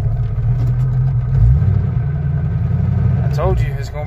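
A Ford Mustang engine after transmission repair runs steadily with a low, rough rumble, close and continuous, while people talk over it.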